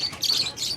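Small caged birds at a bustling pet market in Bocaue give quick high chirps and tweets, a brief flurry of thin calls over low background noise.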